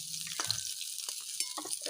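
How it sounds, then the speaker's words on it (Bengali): A soft, continuous sizzle of food frying in hot oil crackles steadily, with a few light clinks of utensils and no talking. "মাছগুলো ভাজা হয়ে গেছে, এবার আমি তুলে নেবো মাছগুলোকে"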